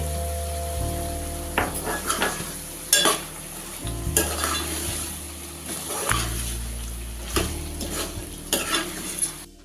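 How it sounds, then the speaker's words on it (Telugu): Green chicken curry in a pan, with coriander powder just added, is stirred by a spoon that scrapes and clacks against the metal in irregular strokes over a steady close sizzle. "కలిసేలాగా కలుపుకుందాం. ధనియా పౌడర్ కూడా ఇందులోకి వేసుకుందామండి."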